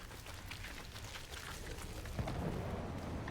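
A deep explosion in Fortnite booms out of a dense, rumbling game soundscape and lingers as a low roar, loud and close.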